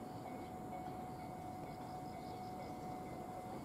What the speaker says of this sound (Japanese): まもなく2番線に列車が参ります。